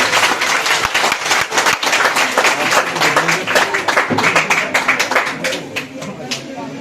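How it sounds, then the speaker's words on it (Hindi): Loud, sustained applause from a crowd of students at a school anti-drug awareness campaign, dense clapping filling the whole stretch, with scattered voices and shouts mixed in before it thins slightly at the end. "इनके लिए जोरदार ताली बजाएं।"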